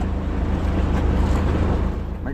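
A boat powered by an Isuzu M700 diesel engine drones loudly and steadily at close range, its low rumble mixed with wind buffeting and water wash.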